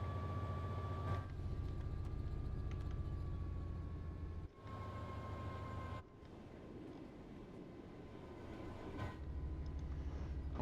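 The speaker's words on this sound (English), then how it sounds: "they are traction motor idling sounds" Traction motors of an electric freight train idling in Train Sim World 5, a steady low hum with a faint whine layered above, briefly cut out a few times, no talk.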